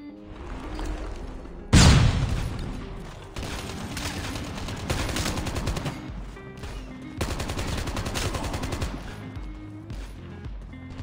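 Gunfire and explosions in the Call of Duty Mobile video game: a loud blast near the start, then sustained rapid automatic bursts and scattered shots.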